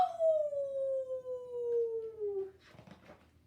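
A voice imitates a long howl, a single drawn-out tone gliding slowly downward for over two seconds, followed by faint rustling.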